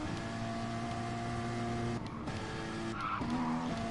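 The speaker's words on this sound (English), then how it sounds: "I did a good drift in front of Enra" In a Porsche racing game at the Fuji circuit, a car's tires screech through a drift over a steady droning engine. The squeal shifts pitch partway through, and there is no talk.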